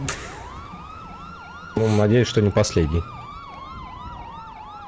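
A police car siren in the game GTA 5 wails in a steady rising-and-falling cycle throughout, with a short burst of speech in the middle of the clip.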